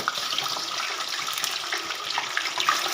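Pieces of chicken for a Peshawari chicken karahi hit hot oil in a pan and fry with a steady, close, hissing sizzle and scattered pops, with no talking.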